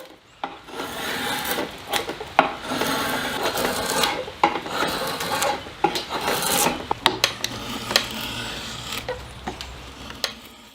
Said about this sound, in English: the cooper switches to a draw knife. With a rhythmic rhythm, wood shavings as thin as ribbons are peeled away